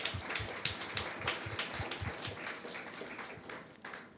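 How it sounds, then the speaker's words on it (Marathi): Congregation at a Women's Day church service clapping for its brothers and sisters, a short burst of applause with distinct rhythmic claps standing out, fairly faint and fading toward the end. "एकदा जोरदार टाळ्या वाजूया"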